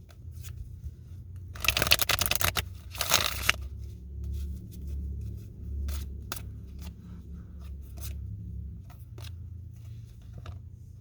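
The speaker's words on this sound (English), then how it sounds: "just want to make sure everything is shuffled really well" Tarot cards are riffled and shuffled in two quick rustling bursts, followed by softer taps and light handling sounds in a quiet room.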